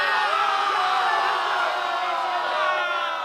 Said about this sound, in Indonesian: Momen kemenangan ini dirayakan dengan sorak-sorai yang membelah langit malam.